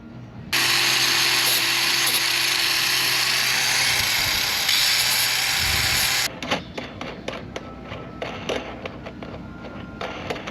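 A power drill fitted with a sanding disc whirs loudly and steadily for several seconds, then stops, followed by clicking, tapping handling noises.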